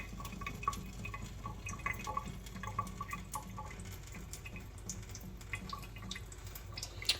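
A potted philodendron is watered indoors, with soft, faint trickling and scattered drips landing in the pot over several seconds and no voice.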